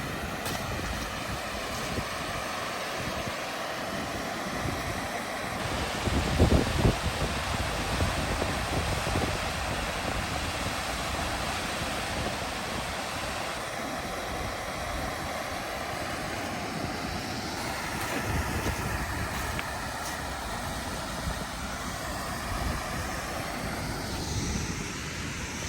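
Taughannock Falls roars as a steady, broadband rush of falling water heard from a viewing area, constant and full throughout, with a brief knock partway through.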